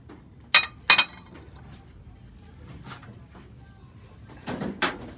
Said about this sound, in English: This is just cut glass.